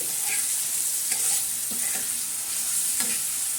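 Soybeans stir-fried with spicy garlic chili chutney on a griddle pan sizzle steadily and loudly, with scattered scraping stir strokes over the hiss and no talk.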